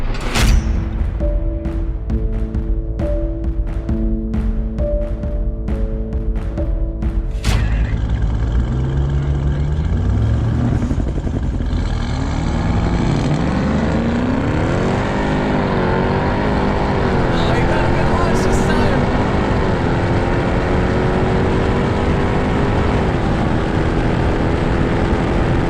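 A Lamborghini Urus and a Ram TRX launch side by side in a drag race, engines revving then roaring loudly as they accelerate, with rising and sweeping engine tones under rumbling noise.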